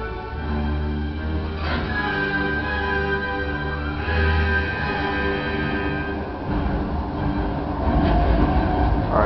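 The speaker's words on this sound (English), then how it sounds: "Train should move back." A train in the Spider-Man 3 video game rolls backward after a lever is pulled, a continuous low rumble of wheels on rails with a sustained metallic squeal rising above it.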